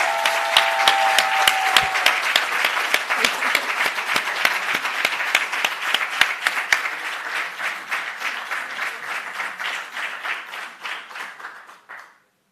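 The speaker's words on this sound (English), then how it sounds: "ladies and gentlemen, a round of applause" An audience at an educators' data protection awards ceremony gives a sustained round of applause, dense steady clapping from many hands filling the room before tapering off and stopping near the end.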